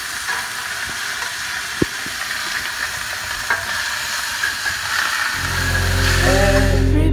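A salmon fillet searing in melted butter in a pan, a steady close sizzle and hiss with a few small pops, joined near the end by a louder low rumbling layer.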